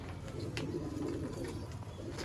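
Ferozpuri pigeons cooing softly in a loft, a faint low throaty coo with light rustling around it, no speech.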